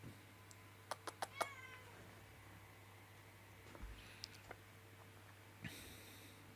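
A cat meows a few times at a distance, short faint calls over a steady low room hum, during a live broadcast of an FA Cup football match between Leeds United and Millwall.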